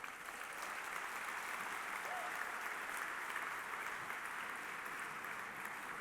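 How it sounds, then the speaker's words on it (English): Audience at an Apollo 9 50th anniversary event applauding, a dense, even wash of clapping from a large crowd that holds steady throughout. "That gets a little round of applause, too, right there."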